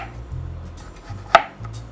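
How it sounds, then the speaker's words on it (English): A single sharp knife cut slicing an onion on a board, surrounded by quiet low background sound. "You just need 1 large onion and we're gonna slice it thinly."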